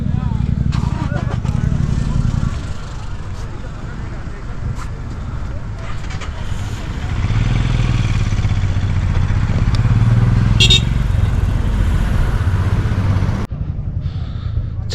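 A motorcycle climbs a mountain road toward Nathula Pass in Sikkim, with a steady low engine rumble and wind buffeting throughout, swelling midway and ending with an abrupt cut.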